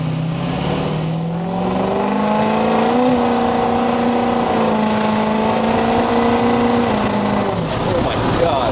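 A 1200-horsepower 6.0L Powerstroke diesel truck accelerates hard, its engine note climbing steadily in pitch and staying loud and close for several seconds before easing off.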